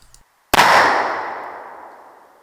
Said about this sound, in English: you've been watching me shoot this gun with black powder